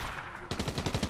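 Gunfire in Fortnite: after a half second of quiet game ambience, a rapid burst of about eight automatic shots rattles in a quick, even rhythm, fairly close and punchy, with no voices.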